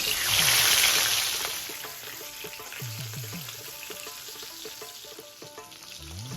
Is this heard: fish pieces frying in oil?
yes